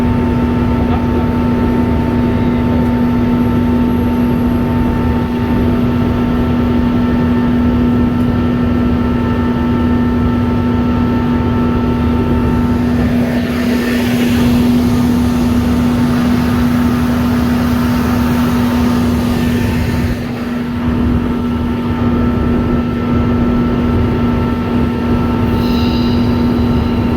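A shunting locomotive rolling through the Rennes rail yard, a loud steady engine hum with a strong constant drone and rumbling wheels, heard close from on board, with a brief dip near the end.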